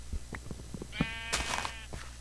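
Sheep bleating in Minecraft VR, one clear wavering bleat rising up in the middle of scattered soft game sounds, fairly close and moderately loud.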